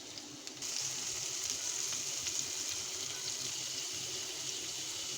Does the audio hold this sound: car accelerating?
no